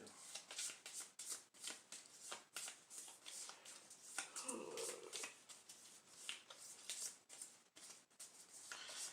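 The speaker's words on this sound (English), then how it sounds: "Go ahead and shuffle this deck up too." Rapid riffling and snapping of playing cards being shuffled, repeated in quick bursts close by, with occasional quiet speech underneath.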